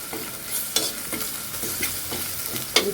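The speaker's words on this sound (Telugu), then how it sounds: "అల్లం వెల్లిపాయ పేస్ట్ కూడా బాగా వేయించేసుకున్నాము" Ginger-garlic paste fries in a pan with a close, even sizzle, while a spatula stirs and scrapes in a loose rhythm. A couple of sharper knocks of the utensil land against the pan.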